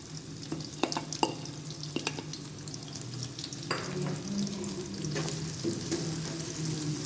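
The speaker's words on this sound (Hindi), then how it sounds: "ऑयल गरम हो गया है, इसमें मैं प्याज ऐड करूंगी।" Onions frying in hot oil in a pan for smoked chicken, a moderate steady sizzle with scattered clicks and scrapes of stirring, no voices.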